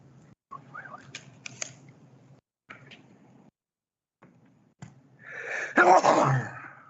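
After quiet clicks and shuffling, a single loud sneeze bursts out close by.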